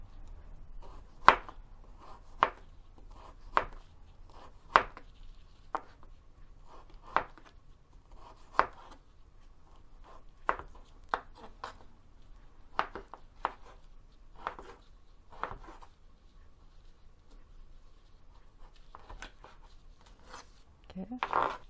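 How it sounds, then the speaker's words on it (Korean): A knife cuts beef into bite-sized pieces on a board, giving sharp, evenly spaced chopping taps, about one every second or so, close and fairly quiet with a faint background. "소고기를 이렇게 먹기 좋은 크기로 이렇게 썰으셔서"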